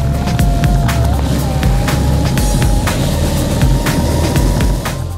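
An emicro one electric kick scooter rolls along with motor assist, giving a steady loud rumble of small wheels on pavement, a faint whining motor tone rising and falling, and occasional clicks and bumps throughout.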